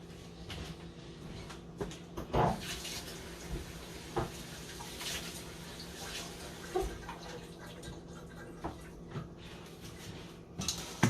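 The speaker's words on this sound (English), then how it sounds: "So I'm just going to rinse these off." Tap water runs quietly over a few thyme sprigs held under the faucet in a kitchen, a soft continuous splash broken by faint knocks and drips.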